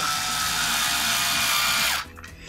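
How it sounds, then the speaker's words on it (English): A power drill threads screws into printed plastic parts during an LCD upgrade on a CR-10S Pro 3D printer, whining loudly and steadily for about two seconds before stopping abruptly. "it's best to use a drill because we want to get these threaded into the plastic."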